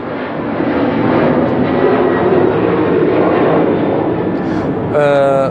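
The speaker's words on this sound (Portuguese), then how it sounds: "só mais um minutinho que está passando outro avião" An airplane passes overhead near an orchid-growing spot, a broad steady engine rumble sustained for several seconds, fairly loud, with a brief bird-like chirp at the end.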